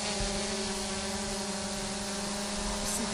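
Drone flying close by, giving off a steady loud whirring hum with layered tonal buzzing from its rotors that holds constant throughout, with no voices.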